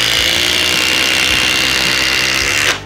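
A Milwaukee impact driver runs continuously and loudly, driving a power lag screw into timber with a steady, buzzing hammering whine that cuts off abruptly at the end.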